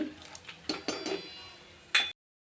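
Sev being stirred into simmering sev bhaji curry in a pot, heard as several sharp spoon-against-metal clinks and scrapes spread over about two seconds, ending in one louder clatter.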